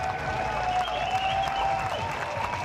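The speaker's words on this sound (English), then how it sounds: "The warm applause for Usain Bolt." A stadium crowd applauds Usain Bolt during a Borussia Dortmund football session, a continuous, dense wash of clapping and crowd noise from start to finish.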